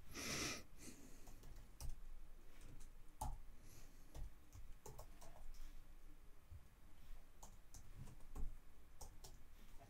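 Computer keyboard keys clicking in a steady uneven run of taps as a command is typed on a Linux machine, quiet and close with a brief louder rustle at the start.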